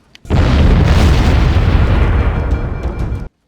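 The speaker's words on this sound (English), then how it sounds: "the explosions," A loud, sustained explosive roar in Halo: Combat Evolved with a sharp onset, rumbling heavily for about three seconds before cutting off abruptly.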